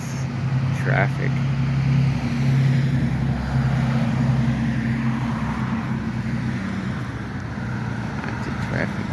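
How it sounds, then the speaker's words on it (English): Road traffic rumbles past during a dog walk, a loud steady engine drone close by that stays fairly constant and slowly eases off, with a person talking over it. "Ah, that's traffic."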